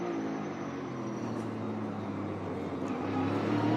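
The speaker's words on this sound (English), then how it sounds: "Now he's headed down to the heavy braking section in turn 11. You're going to see heavy braking, downshift." A NASCAR stock car brakes hard into turn 11 at Circuit of the Americas, its engine note dropping through downshifts in a continuous loud, fairly distant roar.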